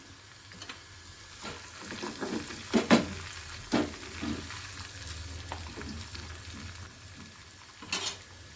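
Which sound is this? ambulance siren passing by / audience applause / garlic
garlic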